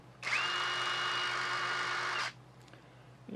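A TapVolx 16.8 volt cordless impact driver spins freely at its third speed setting, a close, loud, steady high-pitched whine lasting about two seconds before cutting off abruptly into quiet.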